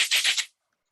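A cabasa is twisted, giving a close, bright, continuous scraping rattle of beads over about half a second, with two or three swells before it stops into silence.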